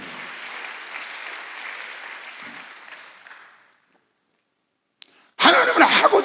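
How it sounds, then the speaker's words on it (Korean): A church congregation at a Sunday worship service breaks into steady applause, a dense wash of clapping that fades out over a few seconds. A short silence follows, then a sudden loud burst of sound. "박수 한번 하세요"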